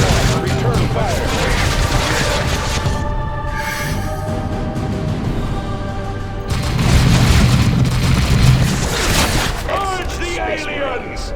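Battle noise from the Warhammer 40K game Dawn of War 2, with continuous booming gunfire and explosions rumbling loudly throughout, swelling heavier near the end, with voices and music layered underneath.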